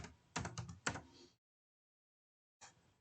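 Keys on a computer keyboard clatter in a short, quick burst of several taps, then a pause and a single final tap, close and clear with no voice over them.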